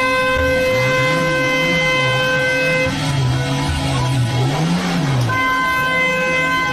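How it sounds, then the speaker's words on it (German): A car suddenly drives in during a livestream, giving a loud close engine drone that rises and falls, with a steady horn-like tone running through it. "Wo kommt das Auto auf einmal her?"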